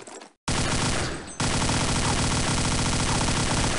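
Rapid automatic gunfire from the Counter-Strike 1.6 video game, loud and continuous after a brief burst and a short gap, sustained bursts dominating the clip with no talk.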